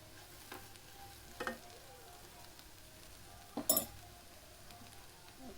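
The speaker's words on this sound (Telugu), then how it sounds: "ఆలు మొత్తం ఇలా ఫ్రై అయ్యాక లాస్ట్లో కొంచెం కొత్తిమీర వేస్తున్నాను చూడండి" Potato fry sizzling softly in a pan, with a few scraping stirs and clinks of the spatula as coriander is added, faint and steady underneath.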